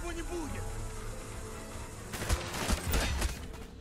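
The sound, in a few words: gunfire in the video game Call of Duty: Black Ops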